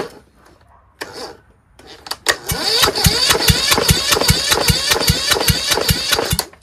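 A Kohler Courage engine turns over with a repaired starter motor after a couple of short bursts, then catches and runs with a loud, rapid, rhythmic firing close by.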